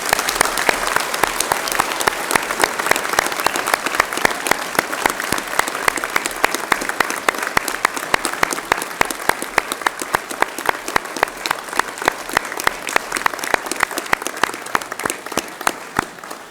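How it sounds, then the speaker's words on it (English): An audience at a university graduation morning ceremony applauds its graduates, a loud, steady wash of many hands clapping that carries on without pause. "please join me in applauding our graduates once more for their achievements"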